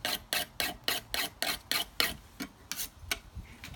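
Metal spatula scraped across a knife sharpener, a dozen close, rhythmic rasping strokes in steady succession, growing slightly uneven toward the end, with no voices.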